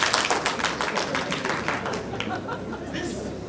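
Classroom audience clapping at an academy, a broad burst of dense claps that thins slightly over a few seconds, with chatter and a voice or two mixed in.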